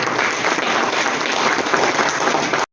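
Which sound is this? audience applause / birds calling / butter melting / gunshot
audience applause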